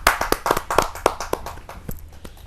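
Audience applause at a Hindi kavi sammelan poetry gathering, a burst of many hands clapping close and fairly loud, thinning out toward the end with scattered claps.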